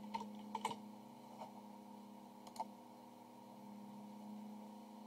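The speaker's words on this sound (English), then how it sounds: "Just make sure I don't make any typos typing with one hand." Scattered keystrokes on a computer keyboard, typed with one hand, tap out faintly and irregularly over a constant low electrical hum.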